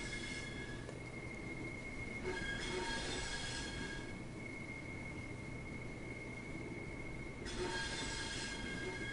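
A train slowing to a stop in Train Sim World 3, steady rolling rumble with high, sustained wheel and brake squeal rising in a few bursts, fairly faint and without talk.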